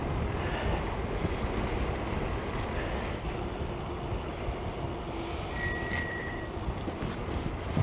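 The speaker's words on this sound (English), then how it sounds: "Always ring your bell." Bicycle bell rung on a paved rail trail, a couple of bright metallic dings near the end over steady wind and rolling tire noise.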